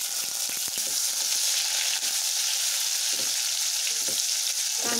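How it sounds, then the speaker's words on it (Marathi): Onion frying in hot oil in a kadhai for a matki rassa, a loud and steady close sizzle with scraping stirs running through it, with no voices. "मी कांदा टाकते"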